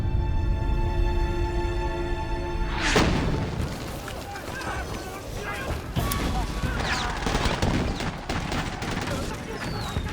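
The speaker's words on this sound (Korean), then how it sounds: "매 시각 들려오는 총성과 여기저기 들려오는 비명소리" Gunfire in a Korean War battle scene: a loud burst at about three seconds is followed by scattered shots and crackling blasts under dense, chaotic noise.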